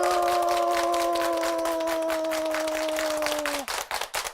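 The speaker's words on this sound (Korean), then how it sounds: "여러분, 박수!" An audience claps steadily and fairly loudly over a sustained musical tone for several seconds, then the clapping thins to a few scattered claps.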